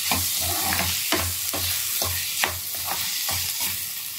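Chopped tomato frying with ginger and garlic in a pan, a steady crackling sizzle broken by rhythmic spatula stirs roughly every half second, close and clear with no talking.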